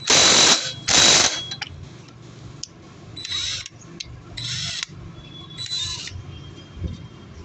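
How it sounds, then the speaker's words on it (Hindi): A ratchet fitted with a 17 mm socket loosens the main shaft nut on a Suzuki Swish 125 scooter. Close, loud bursts of rapid clicking are broken up by quieter metallic clinks and pauses. "अब हम फ़िलहाल ये जो हमारा मेन 17 mm का जो गोटी सेट है उसको तैयार कर रहे हैं ताकि हम इसको खोल सकें"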